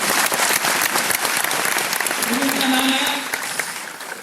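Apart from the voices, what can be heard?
audience clapping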